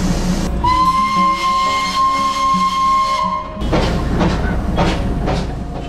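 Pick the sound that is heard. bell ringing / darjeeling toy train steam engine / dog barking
darjeeling toy train steam engine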